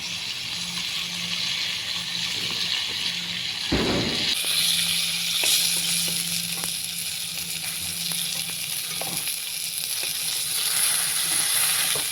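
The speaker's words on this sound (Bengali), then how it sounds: "পটল ভাজা হয়ে গেছে" Steady sizzling of pointed gourd frying in hot oil fills the clip, with a few clinks and stirring scrapes in the pan.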